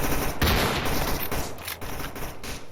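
Rapid automatic gunfire aimed at the player in the shooter game Stalker Anomaly, with dense bursts and booming impacts running throughout, loud and continuous, with no voices.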